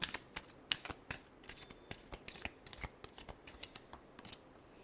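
Tarot cards are shuffled up close, a quick run of crisp riffling snaps and flutters repeating in uneven bursts for about five seconds, quiet and without voices.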